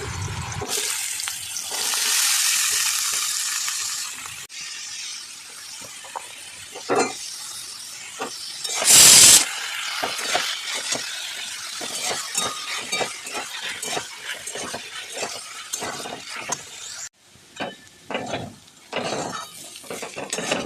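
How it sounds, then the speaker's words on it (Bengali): Potato pieces for ghugni fry in oil in a pan, giving a steady broadband sizzle with repeated scraping stirs and occasional clatters throughout, and no voices. "আলু ভাজা করে নেব মানে ঘুগনিরই আলুটা একটু ভাজবো তার জন্য তেল দিয়ে দিয়েছি আলুগুলো দিয়ে দিলাম"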